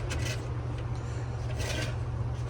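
A weld on a car fuel sending unit for an 8th or 9th gen Civic is smoothed with steady rasping, filing strokes over a constant low hum, close and fairly quiet, with no talk.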